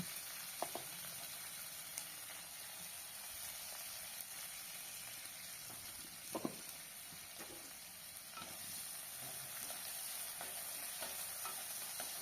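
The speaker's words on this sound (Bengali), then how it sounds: "এবারে ওই তেলে ফুলকপিগুলোকেও ভেজে নেব লাল লাল করে।" Cauliflower pieces deep frying in oil for singara filling, a continuous dense sizzle and hiss, fairly soft and steady, with occasional light stirring clinks and no voices.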